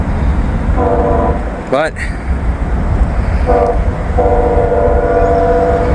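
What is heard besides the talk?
CSX or Norfolk Southern train passing with horn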